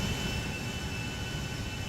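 Airplane engine in the video game GTA 5 Online, a steady, loud, continuous jet roar with a high whine held throughout, with no talking over it.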